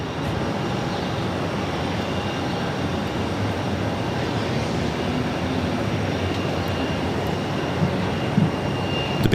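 A jet airliner at Boston Logan airport roars steadily and loudly, a broad continuous engine rumble that holds its level throughout with no voices.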